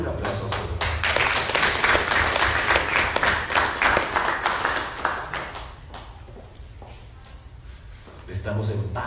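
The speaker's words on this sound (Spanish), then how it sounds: "Dale un aplauso al Señor." Applause from a church congregation during a Spanish-language sermon, steady dense clapping for several seconds that thins and fades, with voices over it and speech resuming near the end.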